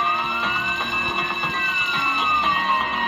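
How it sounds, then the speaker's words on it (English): Police sirens wail steadily in the Roblox game Jailbreak, a continuous rising and falling electronic tone heard over game noise, no talk. "But I hear sirens"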